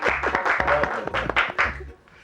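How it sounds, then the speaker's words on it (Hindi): A television comedy show audience breaks into loud applause mixed with cheering voices, rising in waves before dropping off quickly near the end. "तो इसी बात पर तालियां"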